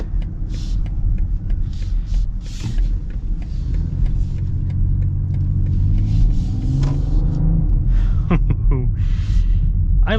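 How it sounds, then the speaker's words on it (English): A BMW inline-six engine in an M Sport SUV rumbles low and steady, then rises in pitch as it accelerates, with faint vocal sounds over the drone. "I love BMW's inline six. It's just such a good engine."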